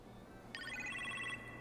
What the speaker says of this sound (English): You appear to have a phone call in the kitchen, sir.